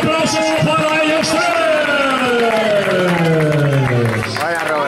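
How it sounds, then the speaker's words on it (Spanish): Spectators clapping for runners at a trail race finish line, a steady wash of applause and crowd noise beneath a loud announcer's voice with a long falling musical tone. "Fuerte aplauso para ellos"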